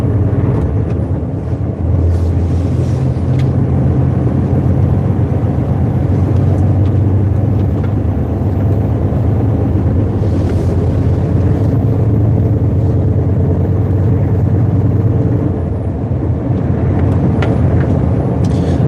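A DAF truck drives the road from Newcastle toward the Scottish Highlands, its steady low engine drone and road rumble continuous and loud throughout, with no talking.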